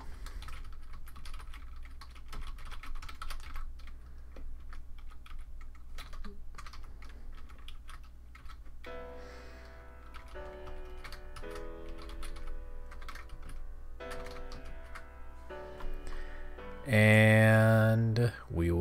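Typing on a computer keyboard while editing a text document, soft clicky keystrokes in uneven bursts and pauses, close and clear, with a brief louder electronic tone near the end.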